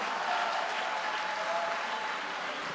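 A church congregation applauds at a sermon, a steady dense wash of clapping that holds evenly loud for a few seconds.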